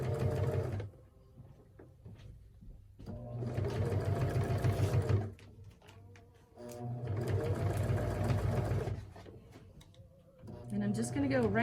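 A sewing machine stitching bias binding in several bursts of rapid mechanical chatter, separated by short pauses, with a person talking quietly between runs.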